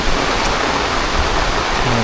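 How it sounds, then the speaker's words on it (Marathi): Steady rain pouring down in rural Konkan during the monsoon evening, a dense continuous hiss of falling water with a faint low rumble, close and loud throughout with no pause. "पाणी पडतं."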